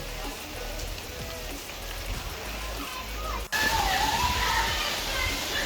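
Heavy rain pours in a dense, continuous hiss and patter on surfaces, with faint voices of children playing mixed into the downpour and a brief cut midway.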